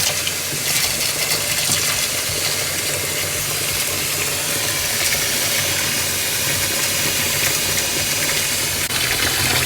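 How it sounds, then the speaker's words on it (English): Hot water runs from a tap into a sink with a newly installed drain, a loud, steady hissing rush that continues without a break. "Let me turn on the hot water."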